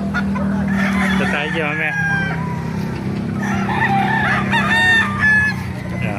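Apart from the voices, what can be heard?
White Kelso rooster crowing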